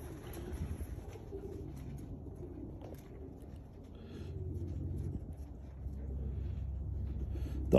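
A show pigeon coos softly while its feathers are trimmed with scissors, low murmuring calls rising and falling close by amid faint handling noise.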